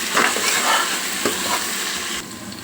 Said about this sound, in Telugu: జింజర్ గార్లిక్ పేస్ట్ వేగింది కదా.